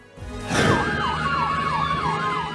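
A fire truck siren wails with a rising and falling tone as the truck rushes to a blaze in Santa Cruz, Manila, loud and steady over traffic rumble after a short quiet start.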